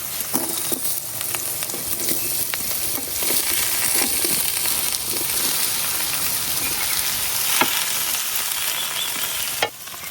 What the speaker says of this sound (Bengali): এখন আমি যে করলা আর আলু কাটে রাখছি এগুলা দিয়ে দেম।